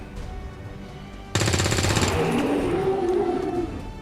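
Rapid gunfire bursts out suddenly in XCOM 2, a loud rattling volley of shots lasting under a second, followed by a lingering tonal whine and low rumble, with no talking.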